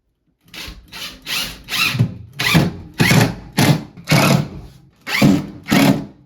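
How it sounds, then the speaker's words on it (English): A power drill drives screws into a garage shelf in close, loud bursts, about nine separate whirring runs, each lasting roughly half a second, with short pauses between them. "Just screw in the"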